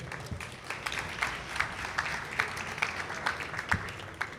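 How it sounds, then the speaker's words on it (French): Audience at a radio fair youth-talent final applauding a radio columnist, a steady, moderately faint wash of clapping with sharper individual claps standing out, no speech over it. "je vous demande d'accueillir Julien Baldacchino, si vous pouvez l'applaudir"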